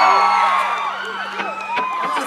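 A big crowd at a live album-launch gig cheers and whoops steadily and loudly, a dense wall of voices with scattered shrill yells rising above it.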